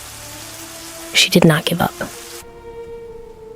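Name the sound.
rain sound effect in an animated story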